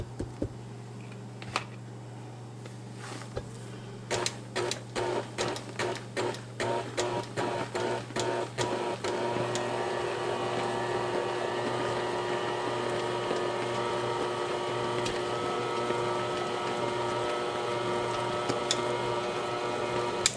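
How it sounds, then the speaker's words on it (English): An electric mixer on low blends Italian cream cake batter: a few scattered clicks and knocks at first, then a steady, close motor whir with a faint rattle that runs to the end. "I always put it in the mixer and just put it on low and let them blend in."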